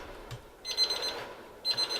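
A Green Mountain Grill meat probe alarm beeps in short, high, rapid electronic bursts, two clusters about a second apart, reporting a smoked beef brisket's temperature, fairly faint with no talk.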